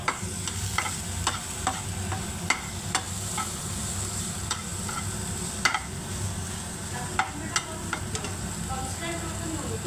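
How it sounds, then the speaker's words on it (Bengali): Shak greens sizzle steadily in a hot pan while a utensil stirs them, adding repeated sharp clicks and scrapes at an uneven pace over the constant crackling. "এই দেখো বন্ধু, শাক ভাজছি।"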